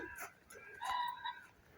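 Harsh bird calls repeat a few times at a distance, with a prominent crow-like caw in the middle against quiet outdoor background.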